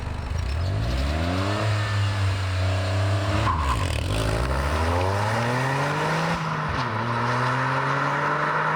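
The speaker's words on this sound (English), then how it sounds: "All right, Jacob, should we launch it?" 2023 Toyota GR Corolla doing a launch from a standstill in sport mode with all-wheel drive engaged: loud close engine note climbing steeply through the gears with brief dips at each shift, continuous and without talk.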